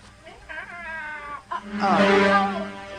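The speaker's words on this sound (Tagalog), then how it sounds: "Kadako rag tingog iring nga, ah." A cat meows loudly in a radio drama, giving drawn-out, wailing cries that rise and fall over a few seconds.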